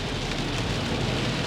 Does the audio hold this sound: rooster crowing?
no